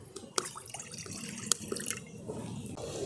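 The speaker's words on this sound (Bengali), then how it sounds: "দিয়ে দিচ্ছি 1 বাটি জল" A bowl of water is poured into a wok on a stove for sugar syrup, giving faint splashing and dripping with a few sharp drops, heard alone and quietly.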